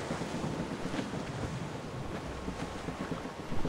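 Wind and waves wash steadily around a sailing ship at sea in Assassin's Creed Rogue, a constant broad rushing roar with no voices.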